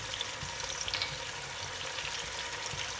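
Chicken for nihari fries in a pan, a continuous bright sizzle with soft stirring scrapes and small crackles, steady and close with no talking.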